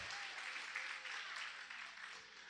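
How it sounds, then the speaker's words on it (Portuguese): A church congregation applauds the Lord while rising to its feet, a dense, sustained wash of many hands clapping at steady loudness through the whole stretch, with no voices standing out. "Aplauda bem forte ao Senhor."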